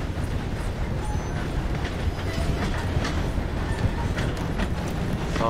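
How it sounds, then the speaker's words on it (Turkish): Train rolling along rails in Red Dead Redemption 2, a steady, continuous rumble with a rhythmic clickety-clack that holds at an even level throughout, with no talking over it. "Nereye gidiyor bu tren?"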